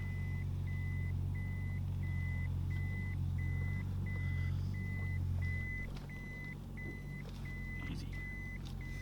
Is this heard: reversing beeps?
yes